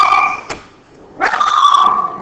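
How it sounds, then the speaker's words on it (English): A pet dog in a home gives drawn-out whining barks, then a short gap and a longer yelping bark, loud and fairly close, heard behind a recorded lesson. "that's my dog in the background"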